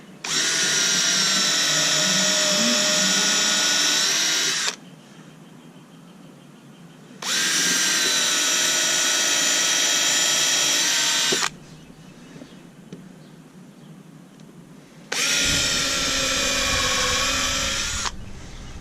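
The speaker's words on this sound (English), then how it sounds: "First I'm going to pre-drill" A power drill whines loudly in three long bursts while pre-drilling holes in wood for a raised bed, each several seconds, separated by short pauses with faint background noise.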